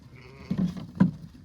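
Young lambs on a farm give two short, close bleats in quick succession over quiet background ambience.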